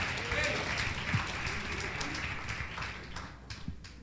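A church congregation applauds during a sermon, giving steady broadband clapping that fades slightly toward the end, with a voice faintly audible underneath.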